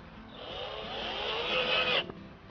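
A power drill drives a 63mm screw into pallet wood for a raised garden bed, a steady rising whir lasting about two seconds up close before cutting off sharply.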